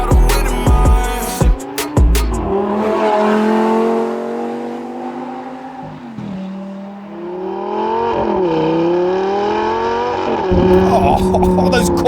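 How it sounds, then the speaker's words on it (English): A Lamborghini Gallardo LP570-4 Superleggera Edizione Tecnica accelerates hard from inside the car. The engine note climbs loudly, drops at each Corsa gearshift and climbs again, with a short rumbling launch at the start. "Oh, those Corsa shifts!"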